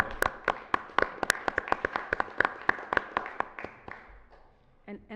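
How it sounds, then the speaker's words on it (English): Small group clapping at a city council meeting, roughly twenty sharp, fairly spaced claps over a few seconds that gradually thin out and fade, leaving near silence at the end. "I want to give you all a round of applause"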